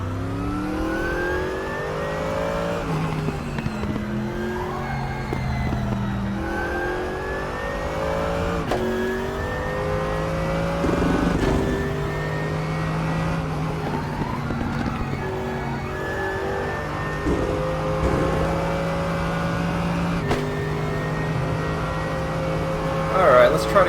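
Race car engine in the RaceRoom sim racing game, revving and shifting steadily through gears with repeated rising pitch sweeps, loud and continuous for the whole stretch with faint talk underneath.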